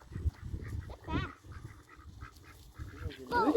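Geese or ducks honking near water around a radio-controlled model aircraft carrier boat, a few nasal calls amid splashing and background noise, with faint voices in between.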